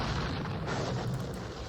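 Dense booming artillery fire from a Napoleonic battle at Eylau in John Tiller's Napoleonic Series, a continuous rumbling barrage that stays loud throughout without any voices.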